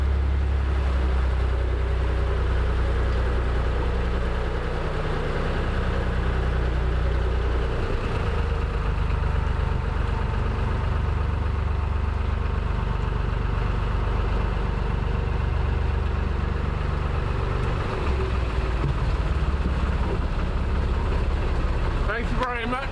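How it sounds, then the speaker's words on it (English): An old Lister diesel engine idles aboard a canal narrowboat at the Atherstone locks, a steady low chugging throb running continuously and fairly close, with voices talking over it throughout. "These old Lister engines do take a while to warm up."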